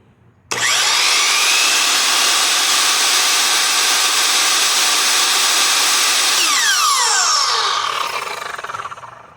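A Ridgid 12-inch R222 miter saw spins up with a sharp start and runs as a loud, steady high-pitched whine for about eight seconds, then begins winding down at the end, heard close with no talking.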